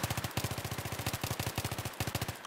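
M5K submachine gun in the video game Battlefield 3 fired in rapid bursts, a fast, evenly spaced stream of sharp shots broken into several short strings by brief pauses, loud and close with no voices.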